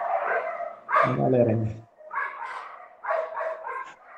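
A dog barks in a short burst of several yaps under a person speaking Portuguese, with talk continuing before and after the barking.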